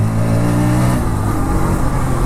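Air-cooled 125 cc single-cylinder engine of a 2024 Bajaj Pulsar NS 125 revving hard as the throttle opens, a loud close buzzing drone climbing in pitch and holding steady, with no voices.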